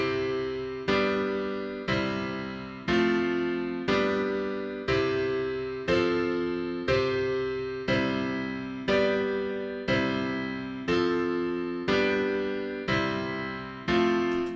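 Piano chords struck one after another at an even pace, each ringing and fading before the next, played alone at moderate volume.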